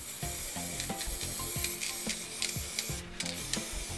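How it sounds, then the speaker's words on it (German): A spray paint can hissing steadily onto artwork, held at a slight angle, with short bursts and clicks over a continuous soft spray. "wenn du in die größere Fläche gehst, vom Planeten wegsprühen. Also die Dose ein bisschen schräg halten."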